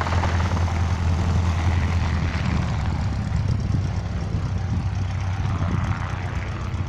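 A propeller airplane engine at an aerodrome drones steadily and loudly throughout, with a deep constant hum and a rough buzzing texture, no voices.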